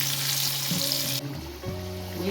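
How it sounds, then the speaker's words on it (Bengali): Potato pieces sprinkled with turmeric and salt fry in hot oil, a steady bright sizzle that drops off sharply partway through, leaving a softer crackle beneath some low tonal clatter. "যে চুস্তায় যে আলুটা দেবো সেটা আমি আগে ফ্রাই করে নিলাম লাল লাল করে"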